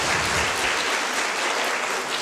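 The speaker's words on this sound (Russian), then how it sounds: "Ваши аплодисменты." After a lecture on information and choice in the networked age, the audience claps steadily and fairly loudly, with no voices over it.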